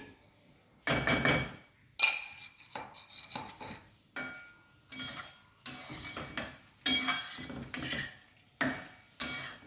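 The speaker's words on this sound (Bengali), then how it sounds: "সব দিয়ে আমি চালটা ভেজে নিচ্ছি।" Rice for Basanti pulao being fried in a pan, with repeated bursts of scraping and rattling about once a second, close and moderately loud, with short pauses between.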